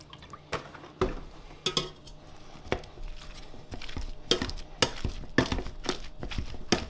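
Close, wet squelching and dull knocks repeat irregularly as boiled potatoes are mashed in a pot with butter and a dash of milk.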